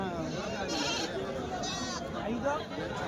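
Billy goats bleat in wavering cries over a constant outdoor hubbub at the Kadiri weekly goat market, with people talking nearby.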